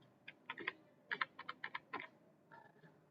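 Computer keyboard keys being typed in Microsoft Excel, a short run of about ten clicky keystrokes in two quick bursts with a softer tail, close and fairly quiet, with no voices.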